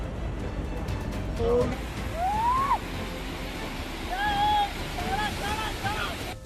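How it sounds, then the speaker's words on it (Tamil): Sea waves crash and wash onto the shore in a continuous broad roar, with wind noise and voices calling out over it. "இந்த கடல் அலைகளின் விபரீதம் தெரியாமல் அதனின் அழகில் மயங்கி நிற்கிறது."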